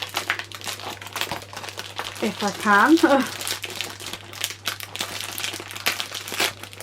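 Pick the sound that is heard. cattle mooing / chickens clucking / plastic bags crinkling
plastic bags crinkling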